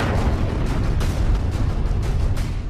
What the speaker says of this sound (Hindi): ये पहला धमाका इजरायल ने लेबनान में किया